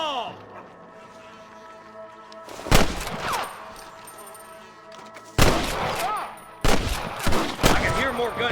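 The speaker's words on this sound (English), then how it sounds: "I can hear more gunshots." Gunfire from the western video game Red Dead Redemption: loud sharp shots burst out in several clusters over a tonal music-and-ambience bed.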